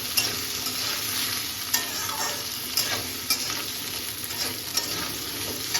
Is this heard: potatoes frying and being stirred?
yes